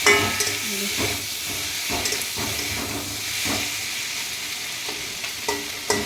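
Spices frying in a pan with potatoes and stalks give a close, continuous sizzle and hiss, with repeated scraping knocks from stirring roughly every second.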